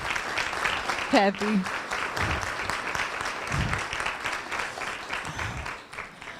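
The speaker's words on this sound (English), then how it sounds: "So please stand up so we can clap for them because they help behind the scenes." An audience at a volunteer swearing-in ceremony applauds steadily, a dense wash of clapping that fills the room throughout, with a brief spoken word near the start.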